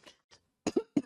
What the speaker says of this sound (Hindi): आज तो खांसी हो गई मुझे।